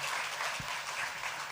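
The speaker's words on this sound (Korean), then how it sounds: "예, 자, 박수로 한번 환영할까요?" Dense, steady applause from a church congregation welcoming visitors at a Sunday service, a continuous wash of many hands heard at moderate distance with no talk.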